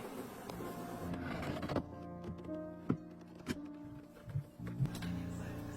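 A honey extractor machine whirs and hums as it spins honeycomb frames, with occasional knocks and thunks over the mechanical drone, at moderate volume.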